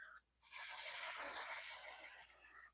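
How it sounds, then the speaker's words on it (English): Setting spray mists onto a face in one long, steady hiss of about two seconds after a brief opening puff, close and clear in a quiet room. "Don't open your eyes while you spray this."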